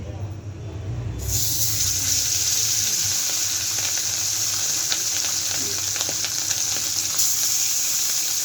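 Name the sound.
frying fish in a pan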